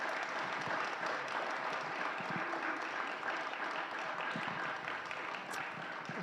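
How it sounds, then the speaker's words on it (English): Applause from a church congregation during a Sunday service, a steady dense patter of clapping holding at an even level from start to finish with no voices over it. "Let's give a round of applause."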